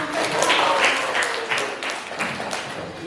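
A ninth-grade class applauding a discussion group after its report: a moderate, continuous patter of many hands clapping in a classroom, steady and fairly near.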